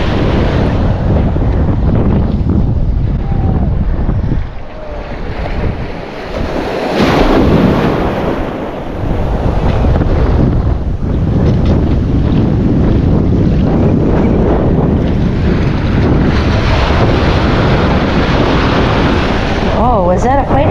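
Strong wind roars across the microphone at Lido Beach, mixed with crashing waves and surf, loud and continuous for the whole stretch with gusty surges.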